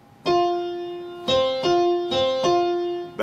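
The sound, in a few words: piano playing perfect fourths, Working on the Railroad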